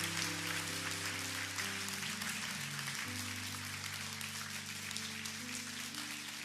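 A church congregation applauds missionary Kim Tae-hoon after his sermon at a women's worship service, a soft continuous patter of clapping under sustained keyboard chords.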